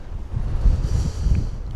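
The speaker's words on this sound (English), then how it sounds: "up there is where all the wind's coming from" Wind buffeting and rumbling across the microphone on an open Cairngorms mountainside, gusty and close, with no one speaking.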